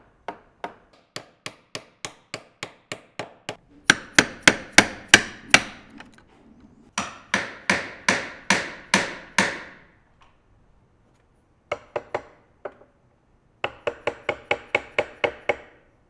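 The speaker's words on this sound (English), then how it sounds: "then went back in with chisels to get the final shape" A chisel struck with a mallet to shape wooden dovetails for a cabinet, producing bursts of sharp, rhythmic wooden knocks in quick runs separated by short pauses, loud and close.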